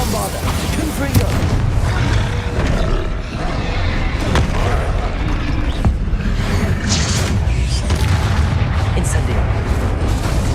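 Confringo and Bombarda explosive spells in the Hogwarts Legacy video game, a continuous loud battle of booming blasts and roars with sharp cracks, under spoken spell names.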